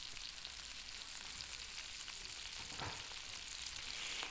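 Beet greens sizzle in a pan with onion, garlic and olive oil over an off-grid cooking setup in Hawaii, a steady close hiss of frying with a faint stir partway through.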